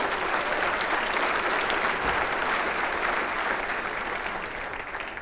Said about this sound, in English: Let's give all the city employees a round of applause,